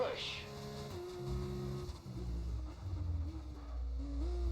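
Formula 1 race car engine in F1 25 at the Austrian Grand Prix on a wet-dry final lap, a steady high whine shifting pitch through gear changes, with a commentator-style voice talking over it.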